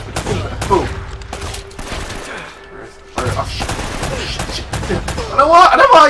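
Enemy gunfire in the video game Uncharted: Drake's Fortune, with loud bursts of shots and rattling fire that drop out briefly and then return harder near the end, mixed with game music and effects.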